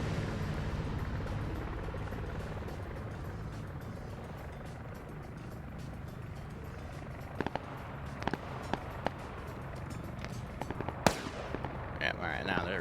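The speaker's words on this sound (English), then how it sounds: "now they're returning fire" Enemy gunfire in a ship-boarding video game, sharp isolated shots popping over a steady rotor-like engine drone, sparse and moderately close near the end.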